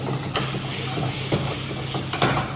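Bele fish frying in oil over full heat, a loud, continuous, dense sizzle and hiss with a few faint clinks of utensils, no talking.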